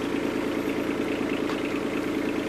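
A Yanmar SC2450 compact tractor engine idling at a steady, even rumble, close and fairly loud, with no one talking.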